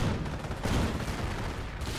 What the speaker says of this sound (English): Ooh, strafing run.